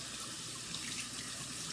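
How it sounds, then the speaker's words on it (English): Warm water runs and pours steadily over fresh mint leaves in a sink or bowl, a close, continuous splashing wash with no talking. "as I wet the water's going to drop from below and the mint won't leave"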